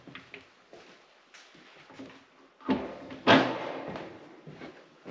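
Metal door of a wood stove being fitted back on after cleaning, with a few light knocks and scrapes followed by louder clanks and rattles near the end, close up and with no talk.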